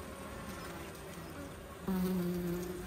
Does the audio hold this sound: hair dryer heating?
no